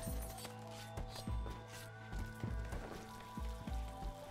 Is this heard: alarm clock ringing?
no